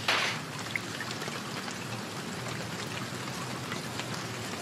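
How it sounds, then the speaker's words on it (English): Steady rain falls outdoors in Manchester, a dense, even hiss of drops pattering on surfaces that continues unbroken throughout, with no voices. "It's raining in Manchester."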